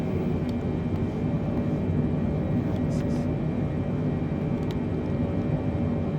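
A Boeing 747 flying into Innsbruck in Microsoft Flight Simulator 2024 gives a steady, even jet roar that holds throughout, with a few faint clicks on top.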